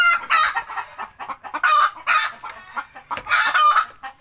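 Free-range native chickens clucking close by in an outdoor coop, with overlapping bursts of bright calls and clucks and brief gaps between them.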